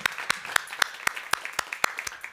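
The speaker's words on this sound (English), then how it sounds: "We're clapping." A small audience claps for a few seconds after a film screening, with sharp, evenly spaced individual claps rather than a dense roar, heard fairly close and alone without talk.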